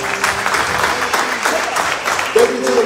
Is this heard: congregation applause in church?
yes